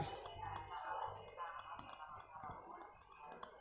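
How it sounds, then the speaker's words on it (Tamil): Split moong dal lentils, a quarter tumbler, poured from a glass into a pan for dry roasting: a light, close scatter of small clinks and rattles over a faint background hum. "இப்போ அதே கிளாஸ்லையே பாசி பருப்பு 1/4 டம்ளர் போட்டுக்கிறேன்"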